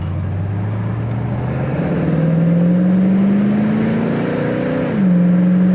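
A 1967 Ford Mustang convertible with a 302 V8 runs close by, its smooth, steady engine drone rising gently in pitch and then settling back down.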